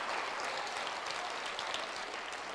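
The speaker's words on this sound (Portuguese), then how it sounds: "Então dá um aplauso ao Senhor bem forte." A church congregation applauds enthusiastically, a dense, even wash of many hands clapping at a moderate distance, sustained without a break and with no distinct voices.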